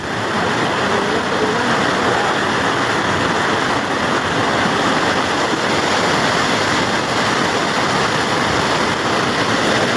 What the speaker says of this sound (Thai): มวลน้ำทั้งหมดก้อนนี้จะไหลลงไปในเมืองนะครับ